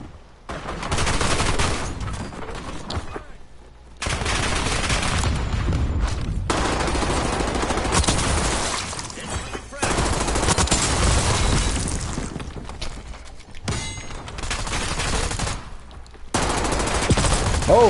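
Gunfire in a Call of Duty Warzone Resurgence match, heavy bursts of automatic weapons and booming shots in loud repeated stretches broken by short pauses.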